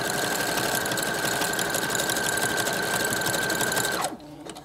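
A sewing machine doubles up wig tracks, running fast and loud in one continuous whirring burst for about four seconds before winding down and stopping.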